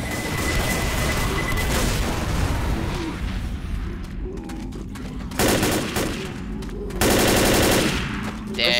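Rapid automatic gunfire and booming shots in the zombie shooter Left 4 Dead, dense and loud throughout, with sharper bursts near the end and voices faintly underneath.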